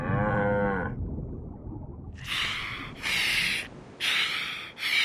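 A cow moos loudly up close, one long lowing call, followed by several bursts of rough rubbing, scraping noise, as heard during a Dr. Seuss story reading.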